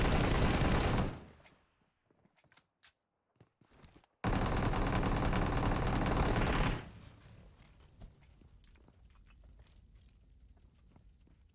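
Gunfire crackles in a PUBG Mobile esports match, a loud dense burst of shots at the start, scattered sharp cracks in a near-silent gap, then a second heavy sustained burst before fading to quieter distant shooting.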